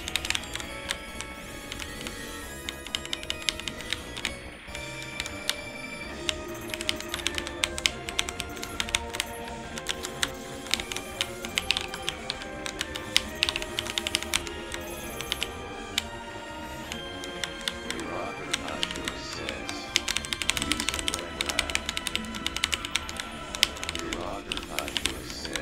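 Computer keyboard keys clatter in quick, irregular bursts of clicks during play of the arcade shooter Armed Police Batrider, set against dense, continuous game music and effects.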